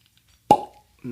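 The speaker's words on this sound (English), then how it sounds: "Cork pop." A cork pulls from a bottle of Glen Fohdry 12-year Speyside Scotch whisky finished in a Japanese Mizunara cask, giving one sharp, close pop with a short hollow ring. A voice starts just afterward.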